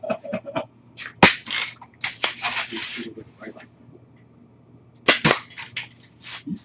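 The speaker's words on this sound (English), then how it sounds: "So we'll go ahead and shoot it with a regular BB gun. And watch this thing pretty much blow up." Explosive pellets fired from a regular BB gun go off on impact in sharp cracking pops, several scattered shots with short crackling bursts, close by, with people talking between them.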